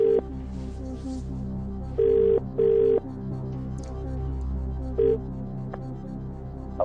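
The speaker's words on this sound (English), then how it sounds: "OK, can we phone Martin" A telephone call being dialed in a television quiz studio: several clear tone beeps of varying length over a low steady hum, with no one speaking.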